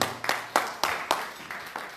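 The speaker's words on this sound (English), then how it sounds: "More and clap for yourself for making this journey." An audience clapping at a fundraising event in Dallas, fairly faint, with about eight sharp, evenly spaced claps in a steady rhythm.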